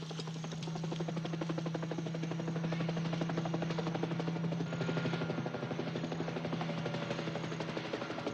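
Helicopters flying in a 1978 war film scene, a steady loud rotor chop with a droning engine whine that holds throughout without any speech.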